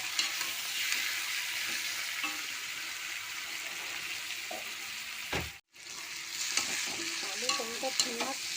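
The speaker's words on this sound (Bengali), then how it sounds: "নুন হলুদ দিয়ে আলু মশলা ভেজে নেবো ভালো করে" Potatoes with salt, turmeric and spices fry in a pan, a steady broadband sizzle with occasional stirring scrapes and a brief cutoff midway, no talking.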